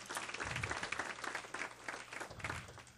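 Audience applause at a board of education meeting, a faint, brief patter of clapping from a small crowd, swelling and easing over a few seconds with no speech.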